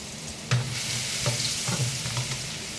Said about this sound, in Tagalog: Pagisa ko ng luya.